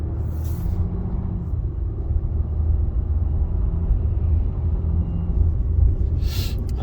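Steady low rumble of a 2022 Ram 3500 Mega Cab pickup under light throttle, a continuous drivetrain drone with a faint shift change and brief hissy bursts at the start and end.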